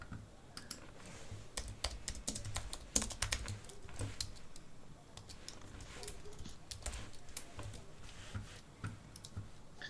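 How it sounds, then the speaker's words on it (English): Rapid typing on a computer keyboard fills the stretch, dense irregular key clicks in quick bursts with brief pauses, close and clear over a faint room background. "So are you now typing me things as we speak?"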